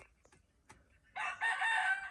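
Native chickens kept for breeding, with hens laying eggs in a shared nest, give a few quiet, scattered clucks. Then a rooster lets out one loud, drawn-out crow close by.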